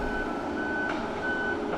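A truck at a logging site gives steady reversing beeps, loud and regular, sounding clearly over a rumbling engine.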